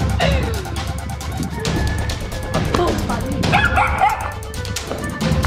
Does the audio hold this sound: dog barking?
yes